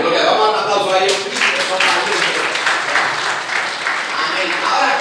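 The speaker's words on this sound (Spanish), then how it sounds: "Vamos a dar un aplauso a ellos." A church congregation claps in applause, a loud, dense burst of many hands that swells and holds steady, with voices mixed in among the clapping.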